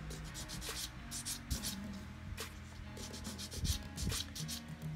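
Hand sanding the wheels of a 1/35 scale Takom MkIV tank model, a steady rasping rub of abrasive across small plastic wheels, close and continuous with brief louder scrapes.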